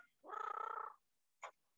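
A pet parrot mimics a cat, making a soft, pulsing purr-like rasp for about a second, then a short, sharp meow-like squawk after a pause, heard alone and close.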